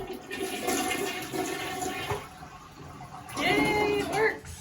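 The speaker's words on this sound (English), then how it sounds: "See if we got a working toilet." A toilet in a newly remodeled DIY bathroom flushes with a loud rushing swirl of water, then the tank gurgles and refills, with a brief high squeak near the end.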